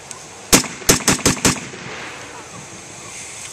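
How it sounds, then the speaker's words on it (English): An MG34 machine gun firing 8mm Mauser rounds in semi-automatic mode at an outdoor WWII weapons demonstration: five loud, sharp shots in quick succession, then a faint open-air tail. "Its rate of fire is 900 rounds per minute, and Carson's going to demonstrate this for you now"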